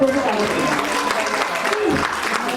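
Audience clapping at an International Women's Day event held by a social organisation, a dense steady patter of many hands filling the room while voices carry over it.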